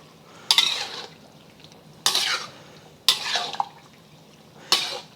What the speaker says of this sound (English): And adding my tofu. And we're just going to gently fold this in.